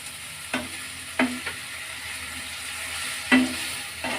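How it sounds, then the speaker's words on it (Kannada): Oyster mushrooms fry in a pan with soy sauce, a steady close sizzle punctuated by several sharp scraping stirs of a spatula, with no voices. "ಮಿಕ್ಸ್ ಮಾಡೋಣ ಚೆನ್ನಾಗಿ ಫ್ರೈ ಆಗಲಿ ಬಾಯ್ಲ್ ಆಗಲಿ ಈಗ ಇದಕ್ಕೆ ಸೋಯಾ ಸಾಸ್ ಸ್ವಲ್ಪ ಹಾಕೊಳ್ಳೋಣ"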